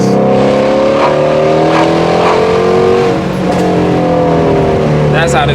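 A 2020 Ford Mustang GT350R V8 revs hard toward its 8,200 RPM redline, loud and close, its rising engine harmonics climbing in repeated sweeps, with a brief burst of higher mechanical noise near the end.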